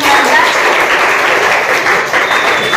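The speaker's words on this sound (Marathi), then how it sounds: "धाग्याचं मर्म या गोष्टीचं पुस्तक तिला आपण देऊन टाळ्या वाजवायच्या सगळ्यांनी." A room of quiz participants claps together to reward a student with a book prize. The applause is dense, loud and sustained, with no one speaking over it.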